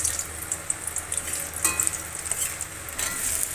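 Whole spices, bay leaf, dried chilli, cumin, cinnamon, cloves and cardamom with sugar, sizzle in plenty of hot oil for a mutton curry, a steady crackling hiss with occasional pops and a brief stir.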